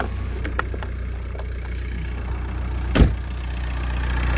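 A 1.9-litre TDI diesel engine idles with an even, low rumbling drone, holding steady throughout apart from one brief louder knock midway.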